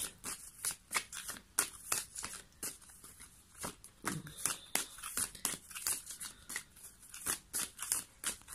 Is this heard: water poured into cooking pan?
no